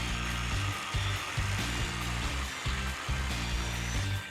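A circular saw and a jigsaw cut through wooden deck-chair parts, making a continuous, close buzzing whine with regular chopping pulses about every half second and no voices over it.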